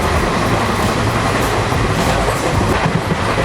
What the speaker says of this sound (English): we're in the train